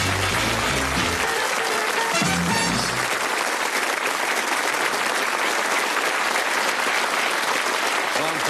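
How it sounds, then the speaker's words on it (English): Studio audience on a game show breaking into loud, dense applause, with a few voices and low murmurs audible at the start before the clapping carries on steadily. "Give them a round of applause."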